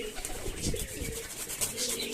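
A male Giribaz pigeon coos in low, rolling pulses, close and moderately loud, with a light rustle in the background.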